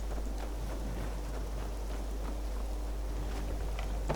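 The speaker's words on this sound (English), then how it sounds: "I'd love to feel the rain on my face" Steady rain in The Elder Scrolls game, a continuous soft hiss of falling drops at an even level with no voices.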